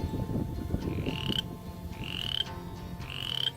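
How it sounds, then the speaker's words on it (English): Three clear, high rising peeps come from a spring peeper frog in a damp spot near water, spaced about a second apart above a steady low rumble. "Hello, Mr. Toad or Mr. Frog."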